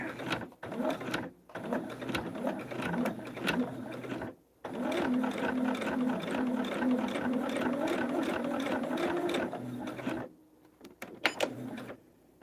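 A quilting sewing machine with a dull needle runs in fast, steady mechanical bursts of rattling stitches. It pauses briefly a few times, then falls to sparse clicks near the end. No one speaks.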